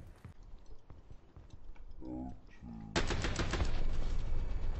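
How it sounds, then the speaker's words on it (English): Rapid bursts of gunfire from the video game Rainbow Six Siege ring out, first sparse and faint, then a dense, loud automatic volley in the final two seconds, with talk in the background. "I just shot this man in the head."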